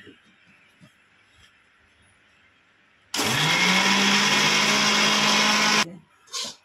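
An electric mixer grinder grinding gongura chutney starts abruptly after quiet background murmur, a loud steady whine for nearly three seconds, then stops, followed by a short clatter.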